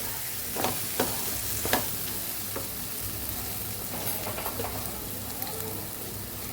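Raw mango and garlic chutney sautés over a low gas flame, giving a steady soft sizzle broken by a few sharp stirring scrapes close by.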